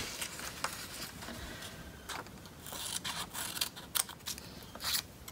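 Scissors snip a small beak shape out of paper for a toilet paper roll chicken craft, giving a string of faint, close crisp cuts and rustles with no talking.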